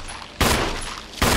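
Gunshots ring out in the Resident Evil video game, two sharp loud blasts with a short gap of noisy decay between them.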